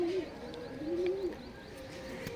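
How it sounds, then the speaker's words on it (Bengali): Baby pigeons coo softly nearby in a loft, two low warbling calls over quiet background hiss with faint ambient clicks. "এই কবুতর সব বেবি পেয়ার"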